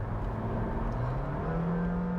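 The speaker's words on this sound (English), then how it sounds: "if I put it into sport mode, you can hear the engine going" A 2025 Honda Jazz engine in sport mode holds a steady, close hum, its pitch rising gradually as it revs, with no voices.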